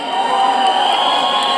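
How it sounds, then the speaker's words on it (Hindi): A live audience at a Diwali horror-comedy film launch event cheers and whoops in a dense, continuous crowd roar, loud and unbroken for a brief moment. "Huge round of applause for Thama"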